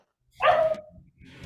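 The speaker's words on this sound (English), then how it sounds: "my dogs are being jerks" Dogs barking in the background during an online tabletop roleplaying session, a short burst of a couple of close, loud barks followed by quieter rustling and movement.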